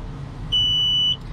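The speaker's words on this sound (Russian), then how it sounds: "Пропищал зуммер, запуск возможен, все в порядке, ошибок никаких нету." Start-up buzzer in the cab of a CASE 2050M bulldozer, a single steady high-pitched electronic tone lasting just over half a second, loud and close over a low idle rumble.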